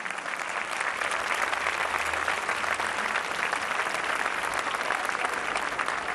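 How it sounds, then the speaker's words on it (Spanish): Crowd applause at a political rally marking 40 years of democracy, a thick continuous clapping from a large audience that holds steady and loud throughout. "pido un fuerte aplauso para toda esa generación que la militó muy fuerte"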